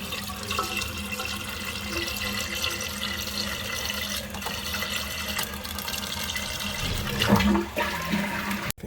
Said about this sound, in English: These power flushes.